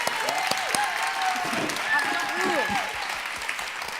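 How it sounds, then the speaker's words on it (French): An audience at an awards event at the Palais Brongniart applauds in a steady, dense patter of clapping, with a voice speaking over it throughout. "On peut les applaudir."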